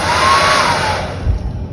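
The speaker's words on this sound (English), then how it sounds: "so your travel hair dryer is on hand when you need it most" A compact travel hair dryer blows in a steady, loud whoosh with a faint whine, close by and uninterrupted.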